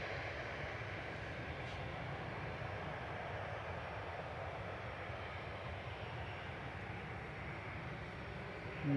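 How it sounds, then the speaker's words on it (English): A Jet2 Airbus A321 Classic departing Manchester Airport for Tenerife South, a steady, loud broadband jet engine roar that holds throughout without a break. "Heading off next is another Jet2 A321, an A321 Classic this time"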